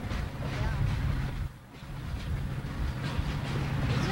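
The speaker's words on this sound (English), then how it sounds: "I can hear the pusher engines coming down here." Conrail railroad pusher engines approach at the Stanley hump yard in 1988, a deep, continuous diesel rumble with a heavy low throb that dips briefly and then returns at a steady, fairly close level.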